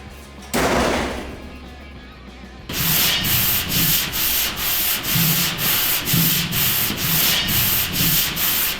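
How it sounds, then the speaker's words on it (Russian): A car body being sanded by hand during a Volga restoration, with steady, loud rhythmic rubbing strokes, about one per half second, close to the listener and with no talk. "Третий день шаруешь."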